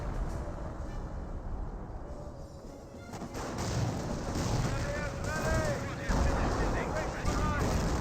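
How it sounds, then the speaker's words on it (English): Butterfly bombs burst across a squad in a Company of Heroes 1 match, a muffled run of booms and crackling blasts over a steady rumble of battle noise, with a commentator's voice partly audible. "He does have too many butterfly bombs blowing up that Piet squad"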